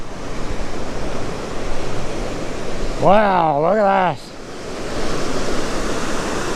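Rapids at Grand River Falls rush in a loud, continuous broadband roar of water close by, briefly overlaid by a person speaking in the middle.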